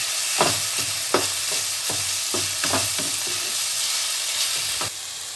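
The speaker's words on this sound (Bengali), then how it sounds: "ভেজে রাখা চিকেনগুলোকে এর মধ্যে দিয়ে দিলাম, দিয়ে কষিয়ে নেব" Fried chicken pieces sautéing with tomato, onion and garlic in a pan: a continuous loud sizzle and hiss with a run of spatula scrapes and knocks, close by, without speech.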